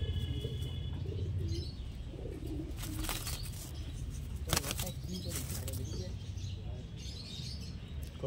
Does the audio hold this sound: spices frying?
no